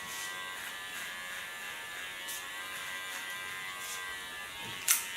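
Electric hair clipper shaving the nape of the neck, a faint steady close buzz running throughout with a brief louder scrape near the end, no voices.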